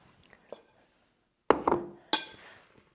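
Sliced tomatoes, Kalamata olives and spinach being mixed in a dish, heard as a few sharp utensil clinks and scrapes against the bowl, close and isolated in a quiet room with a soft voice murmuring at the start.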